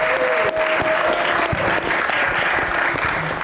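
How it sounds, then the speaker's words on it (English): An esports LAN audience applauds the Rising Star champions at a championship event, a dense, loud burst of clapping that holds steady throughout with no talk on top. "one more round of applause"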